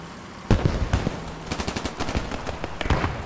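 Rapid bursts of automatic gunfire ring out in the World War II shooter Hell Let Loose, with a sharp opening shot followed by irregular clusters of rounds, some close and punchy, others more distant, continuing throughout.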